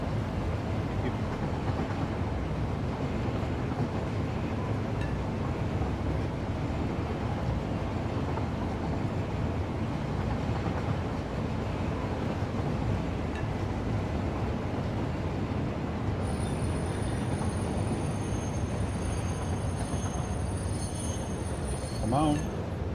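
A train in the video game Satisfactory rumbles steadily throughout, a dense low rolling drone with faint rail clatter, while people talk over it.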